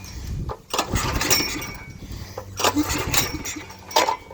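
Generac 5500XL generator being pull-started: a few sharp recoil-cord pulls with brief sputtering engine turnover, close and loud, that does not settle into a steady run.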